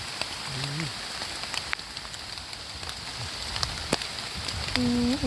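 Steady rain hisses across a surface in a forest throughout, with a few sharp drips and a brief tonal whistle near the start and end.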